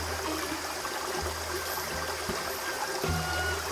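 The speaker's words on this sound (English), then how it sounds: "The roaring water makes a melody, the falling water forms a rhythm" Steady roar of falling and rushing water at the Yongjangsa Temple site in Silla, a continuous broadband wash with low rumbles throughout, close and unbroken.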